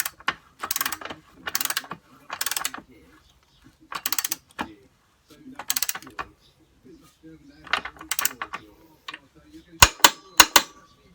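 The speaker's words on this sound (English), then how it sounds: "When you've got to the correct torque, this will click." Torque wrench being ratcheted to tighten the rear wheel nut on a BMW S1000R motorcycle, several bursts of quick ratcheting clicks with pauses between, then a few sharp louder clicks near the end as the set torque is reached.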